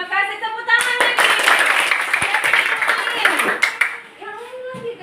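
A class of fourth-grade pupils claps together in a short, lively burst, with a voice speaking just before and again as the clapping fades.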